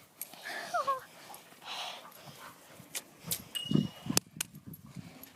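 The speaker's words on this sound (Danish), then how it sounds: "I dag er der nogle mega sindssyge hunde." Dogs playing, with scattered close snorts, sniffs, scuffles and jangling tags in irregular bursts, while people talk at times.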